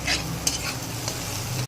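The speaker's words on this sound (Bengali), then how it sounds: "তার জন্য এখন পেঁয়াজ ভাজি করছি।" Onions fry in a pan for a mutton curry, with a close, steady sizzle and quick stirring scrapes over a short stretch that ends abruptly.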